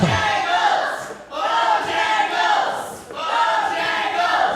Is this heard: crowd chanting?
yes